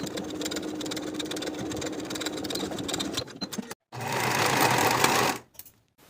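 Sewing machine stitching the side seams of a garment, a steady close motor hum that stops briefly, resumes in a second loud run, then cuts off.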